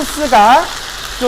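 Radish fritters and sweet-and-sour sauce sizzle in a hot pan during stir-frying, while someone speaks briefly in Korean over the crackle.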